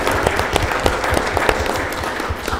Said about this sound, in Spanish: Fuerte el aplauso, por favor, para la organización SAMI.